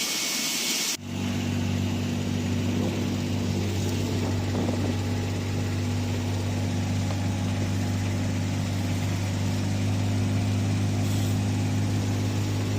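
A buggy carrying fish fry to a lake drives along with a steady droning engine hum after a brief start, constant and close throughout with no talk.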